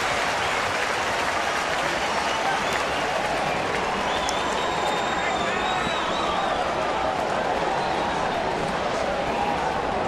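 A baseball stadium crowd stands cheering and applauding after a home run, a dense, continuous roar of clapping and shouting that fills the whole stretch, with faint commentary underneath.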